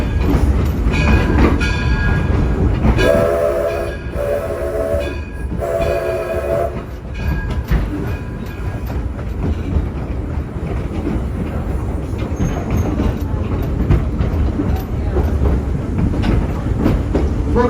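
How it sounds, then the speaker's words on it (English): A steam locomotive, the Edison, pulls a train at Greenfield Village, rumbling steadily close by with rhythmic clanking, its whistle sounding in three short blasts early on. "Pulling our train today, the Edison was built right here in Dearborn, Michigan"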